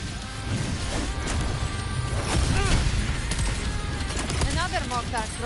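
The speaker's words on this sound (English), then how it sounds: "Another mortar thrown at us." Mortar fire in a video game, heavy thuds and crashing impacts over a dense rumbling battle bed, loud and continuous, with a voice speaking over it.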